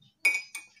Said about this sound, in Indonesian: Lalu kita aduk.